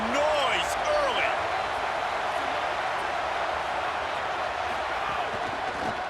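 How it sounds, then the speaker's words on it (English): Simulated stadium crowd in an EA Sports College Football video game, a loud continuous roar of cheering fans filling the whole stretch, with faint whistle-like tones rising near the start. "This crowd bringing the energy and noise early."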